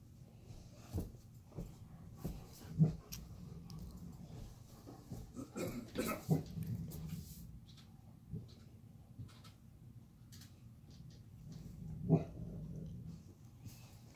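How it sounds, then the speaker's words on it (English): Irish Wolfhound puppies, five months old, in a kitchen giving a few low growls and short muffled barks, with scattered bumps and snuffling between them at moderate distance. "What's your mom barking at?"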